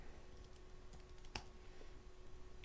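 Code typed on a computer keyboard, a faint run of quick light key clicks with one sharper tap near the middle, no talking.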